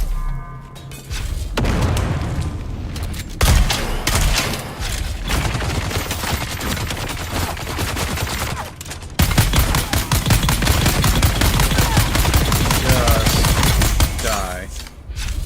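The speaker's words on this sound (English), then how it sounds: "Ow, stop shooting me." Rapid, dense gunfire from a firefight in the video game Dune Awakening, loud and near, with bursts running almost continuously and briefly breaking off around the middle; someone speaks over it.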